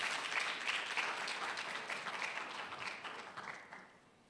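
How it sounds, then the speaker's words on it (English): A crowd at an architects' institute annual general meeting in Ghana applauds steadily with dense clapping that gradually fades out over several seconds. "I think we should give him the round of applause."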